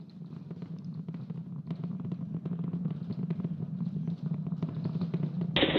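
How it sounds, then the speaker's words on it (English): A SpaceX Starship Flight 8 booster climbs out with all 33 Raptor engines firing, a dense, steady, crackling roar that holds loud and unbroken throughout with no voices over it. "33 out of 33 Raptor engines ignited. Boosters pushing us downrange over the Gulf."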